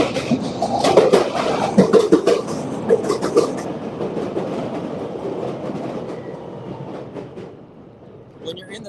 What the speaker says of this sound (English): There's a train going over the top of me, so it's going to get kind of loud for a second.